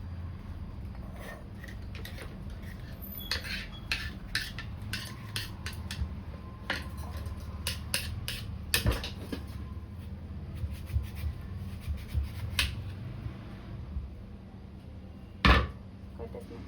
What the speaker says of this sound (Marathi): मस्त बारीक बारीक असं कापून घ्यायचं